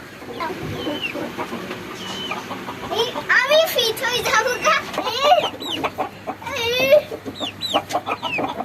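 Chickens clucking, with several repeated clucks and squawks rising in excitement as they are chased, mixed with someone talking nearby.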